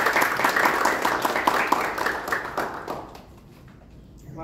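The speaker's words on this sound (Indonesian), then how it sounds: "Tepuk tangan untuk yang nonton Bu Salma" Guests at a party clap in a short burst, the individual claps distinct and close at first, then thinning out and fading to near quiet by the end.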